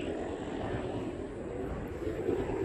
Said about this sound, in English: Military chopper there.